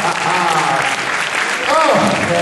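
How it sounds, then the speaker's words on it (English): Audience applause at a stage hypnotist's show, a steady mass of clapping filling the whole moment, with some voices mixed in underneath. "Round of applause."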